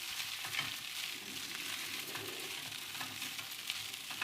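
Fried rice sizzles softly in a pan as it is tossed and mixed, giving a steady, fairly quiet frying hiss with faint scraping and rustling and no voices.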